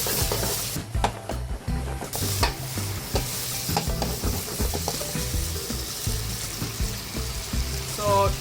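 Shrimp stir-frying in butter sauce with soy sauce, a loud close sizzle under constant rhythmic scraping and clacking of a spatula against the pan.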